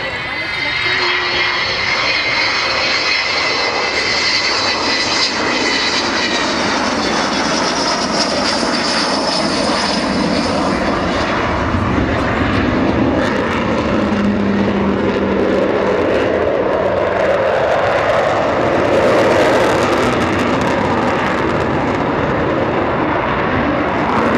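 Avro Vulcan XH558 bomber at the Royal International Air Tattoo 2012: a loud, continuous aircraft engine roar fills the whole stretch, with a man's announcer-style voice talking over it.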